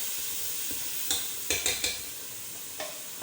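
Onions frying in a pan for chickpea curry served with halwa puri, a continuous close hiss with a few sharp spoon taps against the pan in the middle and near the end.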